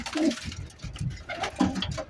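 Two male pigeons, a father and his young, coo back and forth in a pigeon keeper's loft, with soft, low, throaty calls repeating in short bursts, faint and fairly close.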